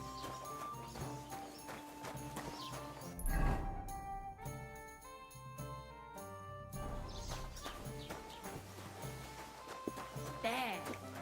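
Horse hooves clop in an irregular walking rhythm in Kingdom Come: Deliverance 2, with a brief jingle midway and game dialogue running over them throughout.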